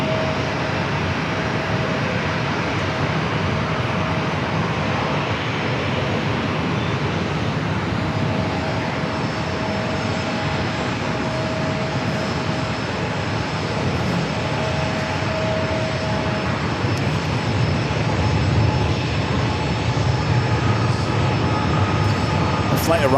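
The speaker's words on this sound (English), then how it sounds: "Flight arriving was United Airlines Flight 2486 coming up from Houston, a 737-900ER" United Airlines Boeing 737-900ER arriving at San Diego from Houston, a steady distant jet rumble with a faint whine. It continues evenly throughout under intermittent talk.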